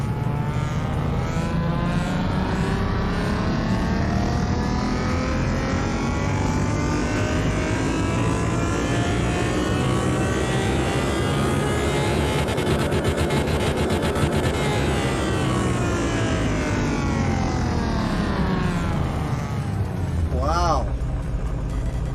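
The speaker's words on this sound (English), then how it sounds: "Oh, that's a lovely sounding engine. It's a V6." V6 car engine running during a test in Car Mechanic Simulator 2021, revving steadily upward then back down in long smooth sweeps, loud and close with a sharp blip near the end.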